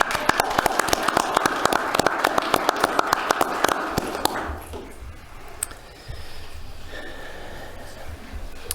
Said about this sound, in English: Now we can clap, right?